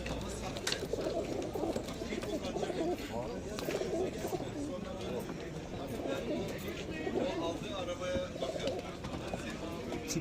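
Many pigeons cooing together at the Edirnekapı bird market, a busy crowded space, with people talking and general bustle throughout.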